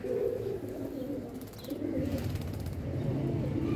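Pigeons coo in low, throaty repeated phrases, fairly close and steady over a faint background with a few higher chirps, at a rooftop pigeon loft.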